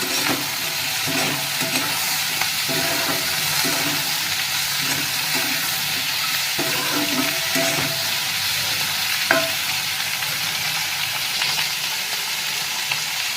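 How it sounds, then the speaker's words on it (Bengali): Chopped capsicum and green chillies stir-fry in a hot pan, a constant close sizzle with repeated scraping stirs of a spatula throughout, steady and loud with no talking. "নেড়ে ছেড়ে নেওয়ার পরেই আমি ক্যাপসিকাম আর কাঁচা লঙ্কাটা এর মধ্যে দিয়ে দিলাম।"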